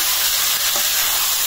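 Boal fish frying in a pan, giving a loud, steady sizzle and hiss that fills the whole short stretch with no other sound over it.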